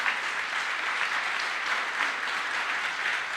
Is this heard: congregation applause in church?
yes